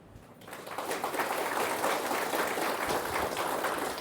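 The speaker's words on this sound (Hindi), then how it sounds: "बीच बीच में ताली बजाओ एक बार" Audience clapping during a spiritual class: after a brief quiet start, a crowd of hands breaks into steady, dense applause that holds at an even, fairly loud level to the end, with no speech over it.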